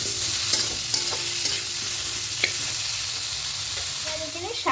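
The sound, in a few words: turmeric frying in a pan before adding greens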